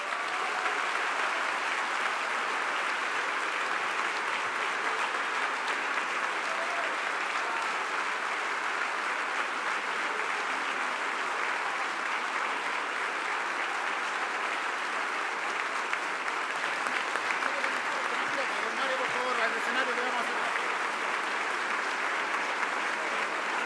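Long, sustained standing ovation from a large audience at the ENADE 2025 business conference, dense steady clapping filling the hall without a break at an even, loud level, with no voices standing out.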